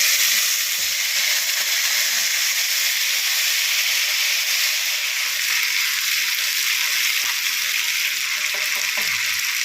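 Ground cumin, coriander and ginger paste fries in hot oil with black cumin and green chilli, a loud steady hiss of steam and sizzle throughout with faint stirring noises.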